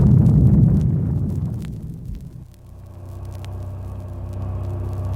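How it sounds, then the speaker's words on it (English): A deep, roaring blast rumbles loudly and slowly fades into a low, lingering drone. "just as the first of a devastating series of explosions goes off"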